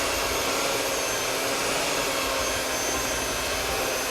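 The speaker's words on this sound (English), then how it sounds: "You see with the hand mixer, it just really comes together and gets it a lot doughier" An electric hand mixer whirs steadily at close range as it beats pumpkin bread batter made with canned pumpkin, a loud unbroken motor drone with no talking.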